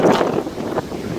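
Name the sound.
strong wind during a storm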